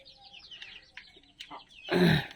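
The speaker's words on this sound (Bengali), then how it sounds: "সবগুলো আমাদের ডিমের মুরগি ফাউমি" Fayoumi laying hens cluck in a run of short, soft calls close by, ending in a louder, harsher squawk near the end.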